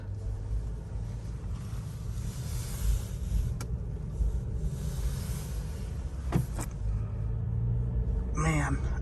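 2022 Mercedes GLC driving, a steady low road and engine rumble inside the cabin with a few brief clicks, a voice speaking near the end.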